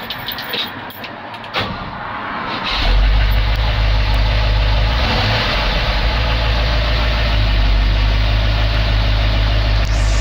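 A 1973 Ford F-250 Dentside HighBoy 4x4 pickup, with a little upper engine noise, rumbles into a loud, deep, steady idle after a few quieter seconds, heard close and alone.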